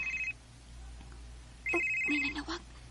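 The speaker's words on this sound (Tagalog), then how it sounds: "Oh, may nanawag." A cellphone ringtone plays in short bursts, a brief electronic tone, a pause, then a longer melodic ring with bright repeated notes, close and clear.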